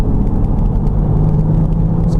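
Interior of a 2017 Range Rover Sport HSE 3.0 TDV6 diesel accelerating hard on a dual carriageway, a loud, steady low engine rumble with a rising drone and road noise.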